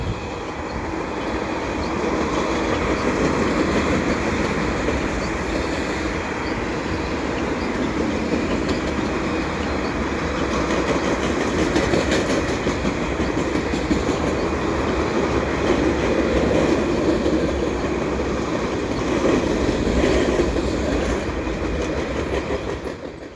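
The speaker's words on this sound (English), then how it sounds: "It's like a solid tanker train." A CN westbound freight train made up entirely of tanker cars rolls steadily past at close range, its wheels clicking and rumbling continuously for over twenty seconds with no voices.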